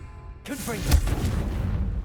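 A Confringo fire spell blast in the Hogwarts Legacy video game bursts in with a crackling whoosh, then swells into a deep, booming impact that rumbles on to the end.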